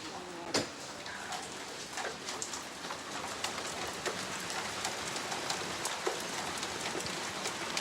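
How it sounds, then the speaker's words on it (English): Heavy rain pours down steadily outside a house, a dense continuous hiss of drops with a few sharper nearby ticks and splashes, no voices. "Absolutely bucketing down now."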